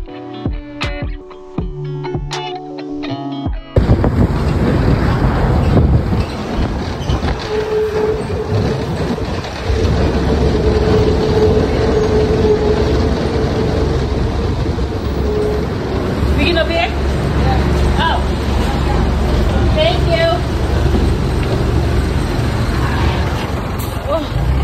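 A city bus driving with its door open gives a loud, steady rumble and rattling road noise, with people talking over it after a brief quieter opening.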